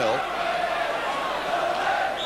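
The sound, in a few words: football crowd cheering at Luton Town stadium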